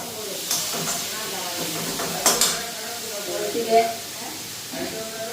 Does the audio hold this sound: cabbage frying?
yes